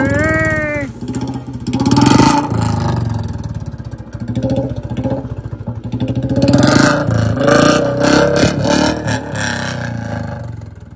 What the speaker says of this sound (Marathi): आवाज ऐका तुम्ही आता गाडीचा प्रॉपर आवाज ऐका